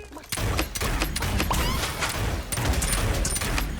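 Rapid gunfire rattles through a fight in the Realm Royale video game, loud, dense bursts of shots running continuously with booming impacts.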